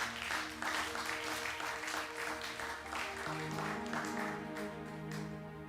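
Congregation applauding in a church during a French-language sermon, a broad steady wash of clapping that holds throughout, with a low musical hum underneath.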